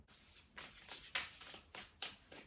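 A deck of tarot cards being shuffled in quick bursts, a series of soft papery riffles and slaps, close and quiet, repeating about every half second.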